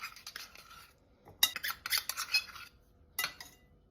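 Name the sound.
adding butter to a large bowl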